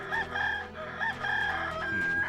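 A stock chicken sound effect in the Star Ocean 3 video game: a rooster crows and a hen clucks, both loud and close, over faint background game music.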